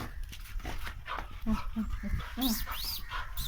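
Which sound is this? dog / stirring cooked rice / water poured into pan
dog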